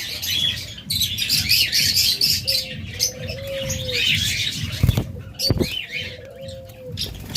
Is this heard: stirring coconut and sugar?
no